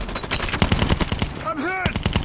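Rapid automatic gunfire in a Call of Duty video game, dense bursts of shots loud and close with a voice calling out briefly partway through.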